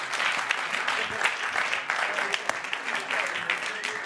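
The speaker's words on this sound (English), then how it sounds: "Give them a round of applause." An audience at a London showcase event breaks into a steady round of applause, dense overlapping clapping that stays loud and even with a few sharper claps standing out.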